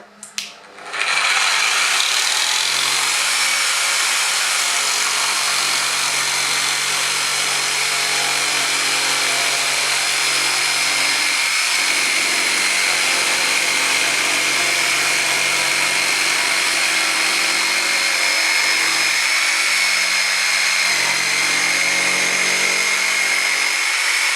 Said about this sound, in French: j'arrive à découper tout simplement une petite planchette